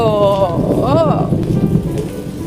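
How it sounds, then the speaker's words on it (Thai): Rain falling on a gloomy Sunday in rural Xishuangbanna, China, a steady wash of drops heard up close while a voice speaks briefly over it. "ฝนตกนะคะ"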